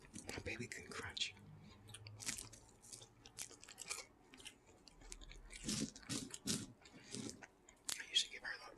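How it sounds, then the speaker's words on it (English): Someone crunching and chewing Burger King chicken with loud smacking, irregular crisp bites and mouth noises up close, mixed with quiet murmured talk. "My baby can crunch."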